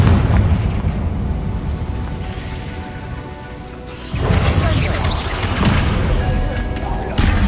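A Confringo blasting spell detonates in the Hogwarts Legacy video game, giving loud booming blasts with a sharp burst near the end, over dense, continuous rumbling battle noise.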